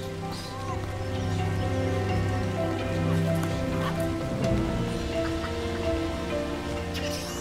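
Steady rain pattering across the surroundings, a constant dense wash of drops with a continuous low hum beneath it, no voices.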